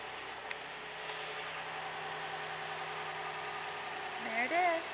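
A 2012 Toyota Highlander's 3.5-liter engine idles with a steady, even hum, and a brief vocal sound rises near the end.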